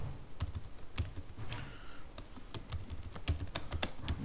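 Rapid keystrokes on a computer keyboard while an SQL command is entered, irregular clusters of sharp clicks and taps, close and fairly quiet, with no voices.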